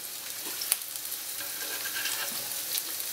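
Onion frying in a pan, a steady soft sizzle and crackle with occasional small pops, close and fairly quiet, no voices.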